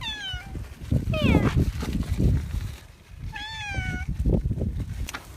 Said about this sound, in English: Hey kitty, you trying to get in all that food?